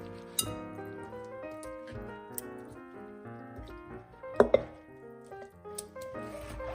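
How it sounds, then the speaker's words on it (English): Cabbage is pushed into a glass mason jar, producing scattered glassy clinks and knocks, with one cluster of sharper taps near the middle, over a quiet, soft background with no speech. "Put your cabbage in the mason jar."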